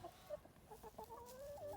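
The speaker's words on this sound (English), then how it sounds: "Oh, the chickens have all come to Dad." Chickens on a farm clucking softly and continuously, with a few brief higher calls, faint and somewhat distant against light background noise.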